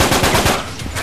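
Automatic gunfire in the video game Uncharted 3 during a free-for-all match, loud rapid bursts of shots in quick succession, close and alone.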